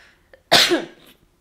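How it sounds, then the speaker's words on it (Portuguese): A single sharp cough bursts out loud and close, a short harsh blast with a rough tail, after a faint throat sound, in a quiet room during casual Portuguese conversation about relationships. "Pera aí que eu vou tossir, gente."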